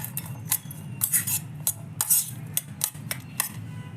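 A spoon stirs and scrapes in a bowl as red chili powder, black masala and salt are mixed for a spicy papad chutney. The soft clinks and scrapes come up close in an irregular rhythm, with a low steady hum underneath and no talking.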